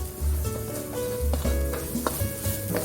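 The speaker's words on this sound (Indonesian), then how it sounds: "Kita tumis sampai harum, baru kita masuk bumbu lain." Whole cloves sautéing in hot oil, a steady close sizzle with scraping stirs and utensil clinks across a few seconds, no voices.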